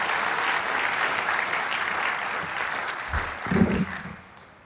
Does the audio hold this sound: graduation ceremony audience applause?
yes